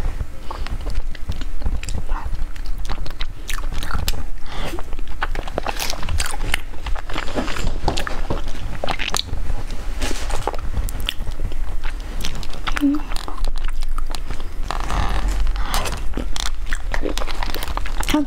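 Rose-flavored artisanal bread being bitten and chewed close to the mic, with soft repeated crunchy bites and moist mastication running steadily throughout.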